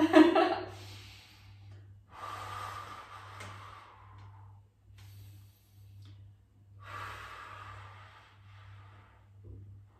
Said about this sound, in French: Je tiens 6 grosses respirations